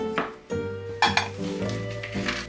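Diced boiled potatoes are mixed in a bowl for a potato dish: a spoon clinks and scrapes against the dish in a few close, uneven strokes with no speech.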